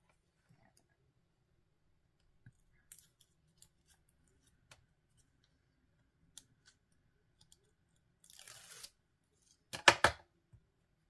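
Scissors snip the corners of fabric for a mini album. A sparse series of faint, quiet clicks and snips is followed by a short rustle and two sharper, louder cuts near the end.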